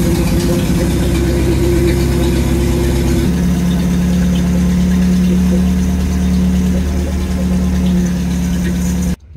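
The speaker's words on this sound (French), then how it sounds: "quand je démarre, on peut bien voir que la batterie charge même au ralenti" A restored Renault R2087 4x4 engine running at idle, a loud, steady mechanical rumble close up that shifts in tone partway through and cuts off abruptly at the end.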